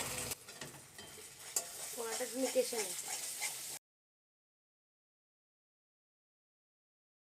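Thick homemade curd, about fifty grams, added to spice masala frying in oil for a vegetarian pointed-gourd dish, producing a soft stirring sizzle under a speaking voice before the sound cuts abruptly to silence.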